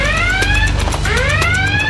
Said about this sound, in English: when he hears the high water level alarm